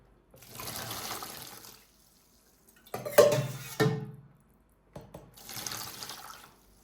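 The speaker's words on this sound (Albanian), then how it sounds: "Këtë mënyrë ja shtojmë lëngun." Brine is poured into a container of cabbage pickle in a few separate splashing bursts of running liquid, with short quiet gaps between them.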